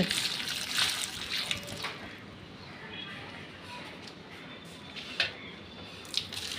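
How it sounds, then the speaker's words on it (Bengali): Water splashes and patters softly onto potted plants on a rooftop during watering, with scattered bright splashes over a faint continuous trickle. "আমি ছাদে চলে এসেছি জল দিতে গাছে"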